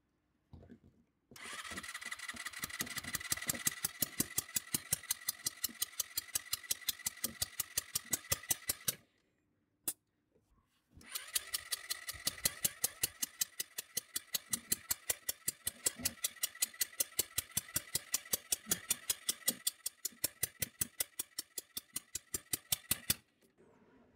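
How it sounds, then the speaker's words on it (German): A scooter engine is cranked over repeatedly during a compression test in a fast, rattling rhythm, compression pressure escaping, stopping briefly and then resuming for another long burst before cutting out. "Nee, leider entweicht der Druck, das kann man gut hören."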